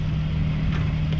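A sailboat's auxiliary engine drones steadily at around 1400-1500 rpm with a constant hum, running continuously with faint wind and water noise around it.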